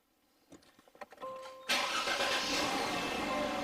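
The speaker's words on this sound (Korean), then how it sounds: "다시 시동을 껐다 켜면은 시동은 무조건 휘발유로 걸립니다" An LPG-converted Ssangyong Chairman car is cranked on gasoline: a few clicks and a short starter whir, then the engine catches and settles into a steady, close idle.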